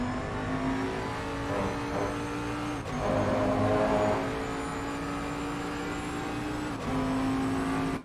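A GT3 race car engine in a sim racing game at Imola drones steadily, then drops pitch twice as the driver lifts off the throttle, close and continuous with no talking.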